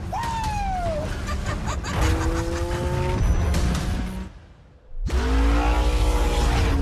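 A trophy truck spins in sand dunes, its engine revving hard and rising in pitch through several loud bursts, dropping away briefly before roaring back, with faint laughter and chatter around it.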